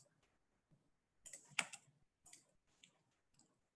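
Credit card details typed on a computer keyboard, heard as a quiet, close burst of quick key clicks with a few scattered taps before and after; no talking.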